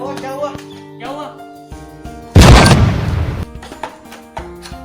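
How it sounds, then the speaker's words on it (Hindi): A sudden loud burst of gunfire-like noise cuts in midway, lasting about a second, between stretches of people talking and background music. "ये गोलियां की आवाज कहां से चल रही है?"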